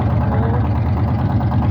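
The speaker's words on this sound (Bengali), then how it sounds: "আমাদের কাকায় এই যে চলে যাচ্ছি ট্রলার ছেড়ে দিচ্ছে" The engine of a trawler boat pulling away, a loud, close, steady low diesel throb with an even pulsing rhythm and nothing else over it.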